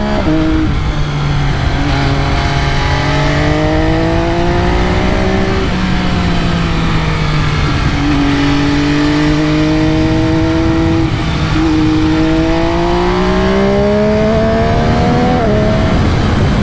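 Loud 2020 MV Agusta F3 800 RC sport motorcycle engine revving and rising through gears on twisty roads, pitch climbing and dropping with each shift, with heavy wind rush throughout.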